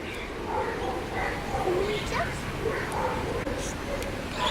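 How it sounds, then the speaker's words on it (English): Several dogs yip, whimper and bark in short bursts at an animal resort, fairly close and fairly loud, over a busy outdoor background with voices talking. "See there. So many dogs."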